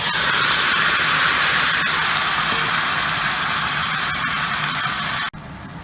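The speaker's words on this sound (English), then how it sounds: "I have all the tomato in there. I'm just going to saute it." Tomatoes sautéing in a pan with garlic for butter chicken give a steady, loud hiss and sizzle that runs unbroken, then drops off sharply near the end.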